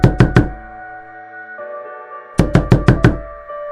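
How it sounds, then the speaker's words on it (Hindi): Knuckles rap on a door in two quick bursts: three firm knocks, a pause with a lingering tonal background, then four more evenly spaced knocks, loud and close. "इतने में दरवाजे पर दस्तक होती है"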